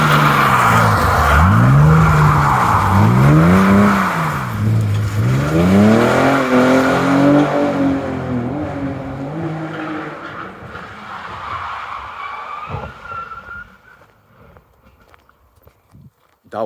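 A BMW E46 slides sideways on a wet racetrack, its engine rising and falling in loud sweeping revs with tyre noise, then fading away into near silence at the end.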